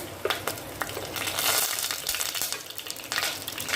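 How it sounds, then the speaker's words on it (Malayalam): Mustard seeds splutter and pop in hot oil with fenugreek and dried chillies for an okra curry, a dense, bright crackling sizzle with sharp pops, steady and close throughout. "കടുകൊന്ന് പൊട്ടുമ്പോൾ ഒരു കുറച്ച് ഉലുവ രണ്ട് ഉണക്കമുളക്"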